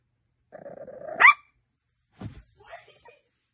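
French bulldog puppy giving a drawn-out low growl that rises into a sharp bark, followed after a pause by a few smaller growly yaps, close and alone against a quiet room.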